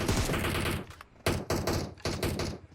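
Rapid bursts of automatic gunfire in PUBG Mobile during a tournament final, including cover fire from an M762 rifle, loud and close, in three or four clustered volleys separated by short gaps.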